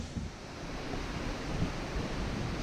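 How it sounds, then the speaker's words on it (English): Skidoo Falls at the bottom of Linville Gorge pours as a steady broadband roar, a constant rushing wash of falling water heard at moderate distance, alone with no voices. "I just wanted to come down and see the waterfall"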